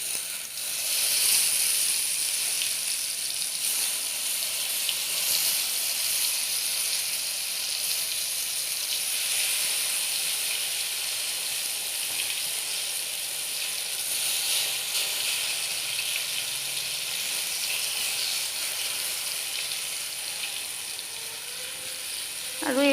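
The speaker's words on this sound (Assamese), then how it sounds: "এতিয়া মই বেঙেনাখিনি ভাজি ল'ম।" Brinjal slices fry for Assamese bengena bhaji on a hot tawa, giving a steady, close sizzling hiss that holds evenly throughout with no talk over it.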